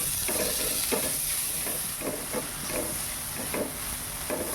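Tomatoes sautéing with coriander powder in a pan for a bitter gourd dish, a steady close sizzle and hiss with repeated scraping stirs of a spoon against the pan.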